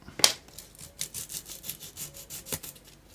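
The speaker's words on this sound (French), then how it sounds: "On ponce un petit peu." A wooden moulding strip sanded by hand in a workshop, giving a series of short rasping strokes, close and fairly loud, in an uneven back-and-forth rhythm with no talk.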